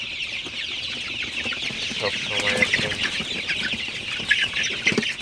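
Sonali super hybrid chickens in a poultry house on their 33rd day, a dense chorus of clucking and chattering from many birds at close range, with brief speech over it.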